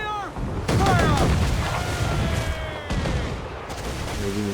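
Ship cannon broadsides in the pirate naval combat of Assassin's Creed 4 Black Flag, with heavy booming volleys and rolling rumble over several seconds, loud and close, mixed with in-game voices and tonal effects.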